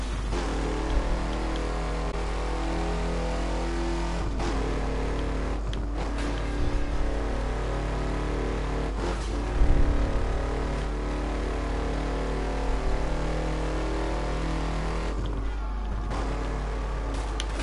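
A steady, loud car engine in Burnout Paradise Remastered drones continuously, its pitch rising and falling as it revs, with a few brief thumps along the way.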